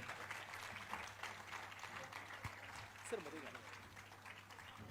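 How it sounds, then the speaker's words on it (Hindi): Faint, distant audience applause fills the hall at an Independence Day memorial event in Mumbai, a steady low wash of clapping with some background voices throughout. "जोरदार तालियां, तालियां बजती रहनी चाहिए, तालियों में कमी नहीं होनी चाहिए"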